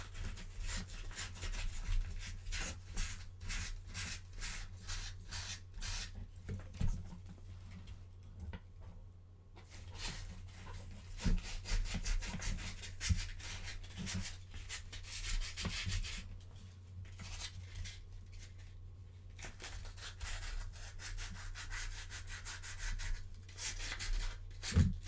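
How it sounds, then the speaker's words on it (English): Dried clay modifications on a figure are sanded down by hand, a continuous close-up rapid scratchy rubbing with brief pauses, over a low steady hum. "I can probably start sanding down the modifications that I just put on"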